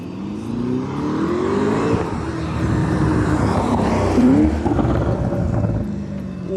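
A Lamborghini Urus approaches and sweeps past loudly, its engine revving with rising and falling pitch sweeps as it passes close by.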